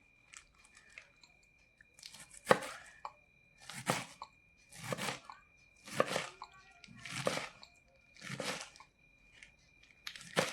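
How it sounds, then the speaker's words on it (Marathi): A knife finely chops spinach in about seven evenly spaced bursts of crisp cutting on a board, with short pauses between. "ती बारीक कापून घ्यायची एकदम."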